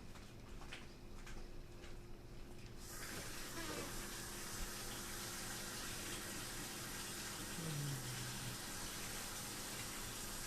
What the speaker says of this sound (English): I'm going to wash these off because it's full of strings